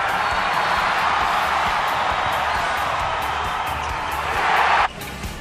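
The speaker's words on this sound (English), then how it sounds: "Listen to the crowd." A dense college basketball arena crowd at a Charleston versus Wichita State game roars continuously, swelling louder before cutting off abruptly near the end.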